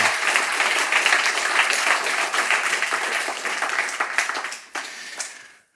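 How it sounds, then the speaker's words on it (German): Loud, dense applause from a crowd, sustained and even before tapering off with a few scattered claps at the end. "bitte einen donnernden Applaus für Daniel im Stream"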